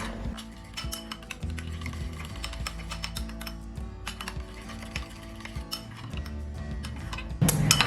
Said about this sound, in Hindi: अब सारी चीज़ें मैं मिक्स कर लूँगी।